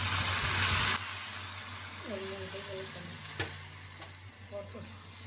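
Raw plantain cooks in a pan with water and tomato, giving a soft sizzle and bubbling with a few scraping stirs of a spoon, fairly quiet after a louder pour at the start.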